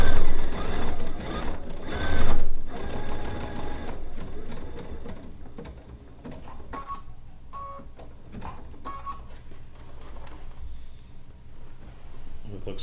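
A sewing machine stitches the binding on a quilt with a steady mechanical whir that swells and eases between bursts, someone talking over parts of it.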